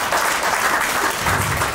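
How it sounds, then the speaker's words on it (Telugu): Audience applause at a university ceremony honoring a professor, a steady dense wash of clapping that fills the whole moment, loud and sustained without voices. "Please clap for you."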